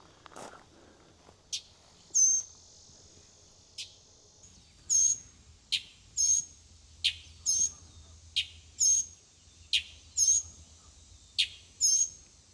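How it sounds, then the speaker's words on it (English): Bird calling in a restored walled garden at Montpelier in Orange, Virginia: a dozen sharp, high chirps at irregular intervals, clear and fairly near over quiet outdoor background, with no voices. "I see the bird making that noise."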